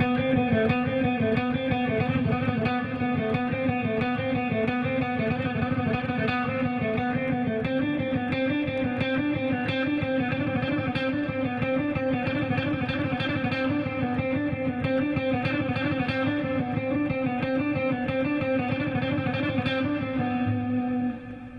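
Heavily distorted electric guitar plays a rock speed exercise, dense picked notes running continuously and loudly with effects and reverb, no voices over it.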